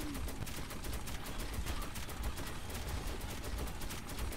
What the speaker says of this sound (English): This machine gun is my baby.